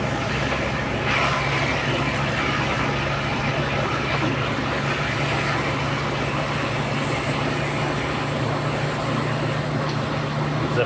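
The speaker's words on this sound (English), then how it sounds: "It's a big old logging truck." A big old logging truck travelling along a mountain road in Japan, its steady engine drone and road rumble heard from inside a moving vehicle, continuous and fairly loud throughout.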